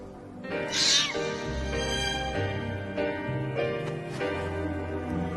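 A cat meows loudly and close, giving a few drawn-out, wavering calls in a row with nobody talking.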